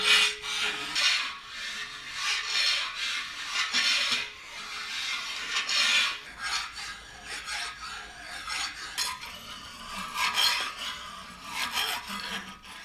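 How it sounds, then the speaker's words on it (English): A hand file rasps across the deck of a Caterpillar D2 engine block in steady, continuous back-and-forth strokes, loud and close with no talking. "So after a few minutes with the file,"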